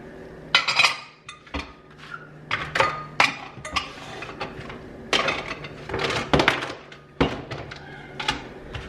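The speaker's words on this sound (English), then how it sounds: "Okay, Lauren keeps her dishes in here" Ceramic dishes clink and clatter as they are stacked and put away in a home kitchen cabinet, irregular sharp knocks and chinks over about nine seconds, close and fairly loud.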